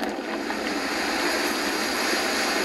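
Synthesized ocean waves, many layered together with earthquake rumble mixed in, give a steady, loud broadband wash of surf with no pauses, alone and without speech.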